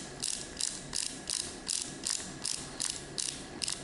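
A laboratory pipette's volume dial is turned down to 1 milliliter, giving a string of about ten evenly spaced, sharp ratcheting clicks, close and clear against a quiet room.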